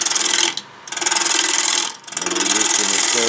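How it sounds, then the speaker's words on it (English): Wood turning on a lathe with a 1/2 inch bowl gouge cutting a plate blank: a steady, bright rasping shave that pauses twice briefly and resumes, close and loud with no talk. "get our lathe speed up to what we can do without a lot of vibration using a 1/2 inch bowl gouge"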